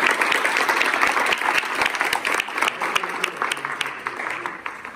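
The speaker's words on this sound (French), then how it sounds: "on applaudit très fort pour Rémi." A crowd at a theatre event in Ploërmel breaks into loud, thick applause, a continuous patter of many hands that gradually thins toward the close.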